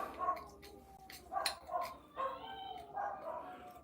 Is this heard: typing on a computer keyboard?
no